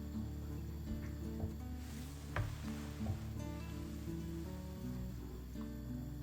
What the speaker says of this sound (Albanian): Do ta përziej mirë.